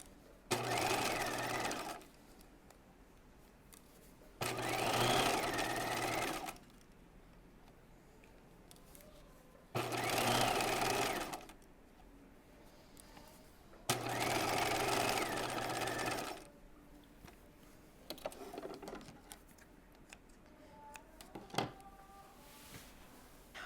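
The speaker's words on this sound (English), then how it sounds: "I'm going to use a long machine stitch. And I'm going to stitch this at 1/2 inch." A sewing machine runs a long stitch through fabric in four loud, fast bursts of about two seconds each, separated by quiet pauses, with a few small clicks near the end.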